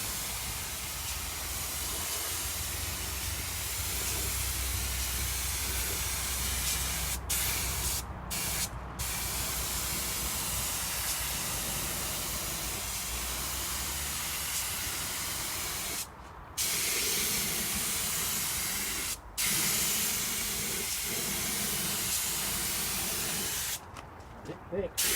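Spray gun applying base coat to the roof of a Honda S600, a steady, close hiss running almost unbroken with a few brief cutoffs between passes.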